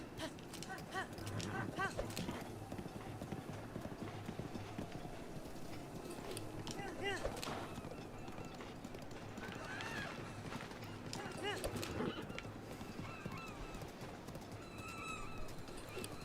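A horse in the video game Breath of the Wild runs at a gallop, with steady clip-clop hoofbeats and an occasional whinny over game music and ambience, while a person talks over it throughout.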